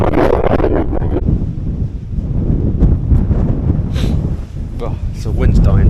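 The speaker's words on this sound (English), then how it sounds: "Oh, so the wind's dying down a bit." Strong wind buffets the microphone while camping on Dartmoor, a loud, close, rumbling roar that swells and eases in gusts.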